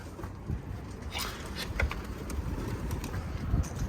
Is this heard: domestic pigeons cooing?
yes